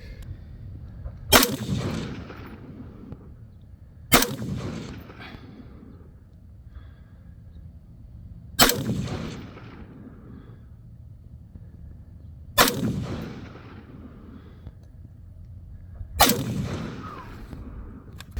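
Five loud, sharp rifle shots from a Bravo Company BCM RECCE14 firing 62 grain PMC green tip ammunition, spaced a few seconds apart, each with a booming tail on an outdoor range.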